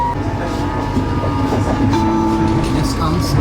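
An Amsterdam metro train running through an underground tunnel, with a loud, steady rumble of wheels on rails and faint screeching squeals throughout, heard from inside the car.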